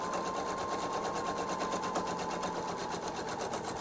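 A sewing machine stitches a bag handle in matching thread, giving off a fast, even, continuous mechanical whir with a steady rhythmic needle pulse and no talking.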